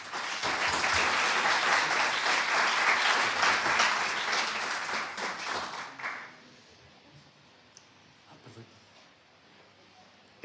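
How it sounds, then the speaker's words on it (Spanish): A conference audience bursts into loud, sustained applause to welcome a speaker; the clapping fills the room for several seconds, then fades out to quiet. "Pues un aplauso, bienvenido a José Parra."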